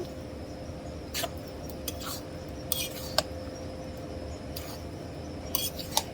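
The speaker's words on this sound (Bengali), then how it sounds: "এখন নাড়া দিব, মাংস কষাইতেছি।" Meat being stirred in a pot while cooking khichuri, with sparse metallic scrapes and clinks of a utensil against the pot over a low steady background hum.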